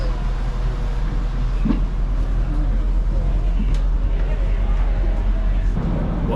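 Reading Railroad train in winter, a steady low rumble of rail equipment close by with a constant heavy drone and occasional clanks, while people talk over it.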